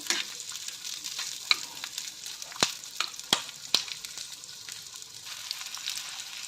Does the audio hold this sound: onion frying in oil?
yes